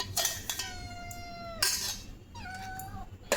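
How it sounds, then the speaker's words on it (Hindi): Two cats meow in a home kitchen. Two drawn-out meows, the second rising then falling, are heard close by, alongside sharp clinks and clatters of dishes and utensils. "दोनों आवाज़ कर रहा है, म्याऊं म्याऊं।"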